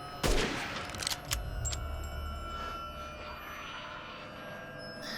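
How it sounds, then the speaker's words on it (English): Sniper rifle fire in the video game Resident Evil Village: a sharp loud shot near the start followed by a couple of smaller reports, then a ringing, tonal ambient tail. "I can pick them off. I've got a sniper rifle."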